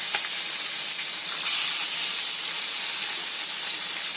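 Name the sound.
fish frying in hot oil, Konkani style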